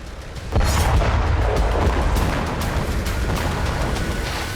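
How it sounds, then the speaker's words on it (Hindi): Explosions from Israeli strikes on Beirut come as a heavy rumbling blast that erupts after a quiet start and rolls on loud and sustained, with crackling bursts layered through it. "बैरूत में एक के बाद एक धमाके देखे जा सकते हैं"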